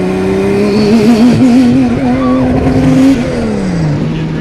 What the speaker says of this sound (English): As I leaned into throttle and built a little bit of boost, it was stumbling quite a lot and misfiring onward.